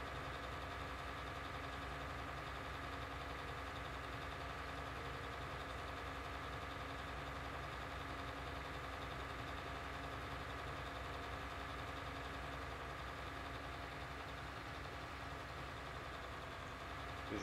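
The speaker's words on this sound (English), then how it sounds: "The tractor just carries on following the route we've just plotted." A tractor engine in an Autodrive farming video game runs steadily as it follows a plotted route, a constant mid-pitched hum with no change in speed and no voices.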